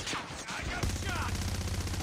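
Rapid bursts of gunfire in a first-person shooter game match, sharp repeated shots clustered close together over game sounds.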